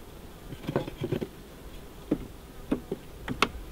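Honey bees around a hive being fed sugar water for winter, close and fairly faint, with short scattered buzzes and light ticking taps coming in quick irregular clusters.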